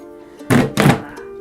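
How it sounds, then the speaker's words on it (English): Two quick hollow thunks from a foot kicking a trash can in a small room, close and fairly loud, with a steady low hum before and after. "I'm also kicking a trash can if you're wondering what that noise is."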